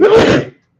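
A single close, loud sneeze, a short sharp burst that quickly trails off into silence.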